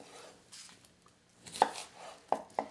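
A knife cuts through a vegetable for a stir fry, landing on the cutting board in three sharp, close thuds spaced unevenly over a quiet background.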